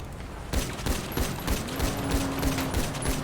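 Rapid bursts of video game gunfire in a GTA V NoPixel roleplay shootout, many loud sharp shots cracking in quick irregular succession over a steady background din, with no voices.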